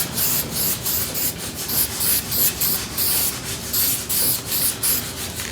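A paint sprayer with a poor tip spraying primer, giving a steady hiss in repeated bursts as passes are made, close and fairly loud throughout.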